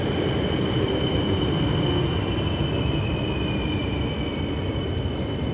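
Double-traction train pulling into Łódź Widzew station, a steady loud rumble of wheels on rails with a thin high squeal running throughout, close by and continuous.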